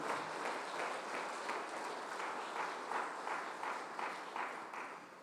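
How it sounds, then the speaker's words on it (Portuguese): A church congregation applauds together at a Sunday morning service, a steady wash of many hands clapping in loose rhythm, sustained at even loudness throughout without speech. "vamos aplaudir ao Senhor nessa manhã"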